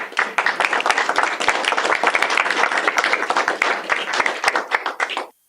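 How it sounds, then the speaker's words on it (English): Applause at a city council meeting in Polk City, Iowa, as a member steps up: dense, even clapping that holds steady for about five seconds, then stops abruptly. "we give applause first"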